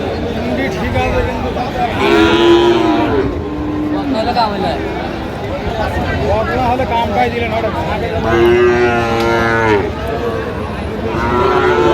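Friesian and crossbred bull calves low and moo repeatedly amid a busy crowd at a Dinajpur livestock market, with loud overlapping voices and general market hubbub all around.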